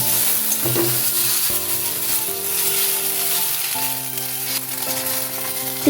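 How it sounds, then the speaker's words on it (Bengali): Okra and potatoes fry with chopped tomato in a pan with little oil, producing a continuous, fairly loud sizzle with occasional stirring clatter. A faint steady tone runs underneath, and no one speaks. "ভেন্ডিটাও আলুর সাথে কিছুক্ষণ ভেজে নিয়েছি।"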